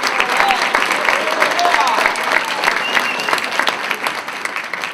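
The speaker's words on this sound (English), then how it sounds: "can we kind of give another round of applause for these guys?" An audience gives sustained applause to the 2006 championship football team at a Hall of Fame induction, a dense, steady wash of many hands clapping that carries evenly through the whole stretch.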